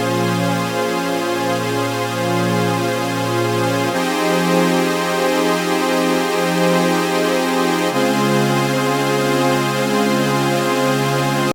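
Warm analog-style cinematic pad built in Serum plays sustained, thick chords that change every four seconds, with two oscillators panning left and right independently for a steady, full stereo wash and no talking.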